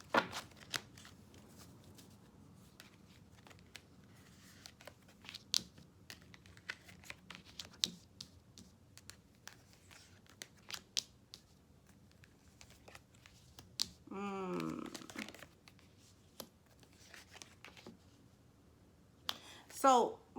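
Tarot cards shuffled and drawn during a psychic reading, a run of soft riffling and flicking clicks with a louder card snap near the end, heard under ongoing talk.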